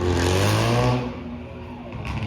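Loud car engines roar and rev with a falling pitch on a city street at night, the noise easing off halfway through while the motor keeps humming nearby.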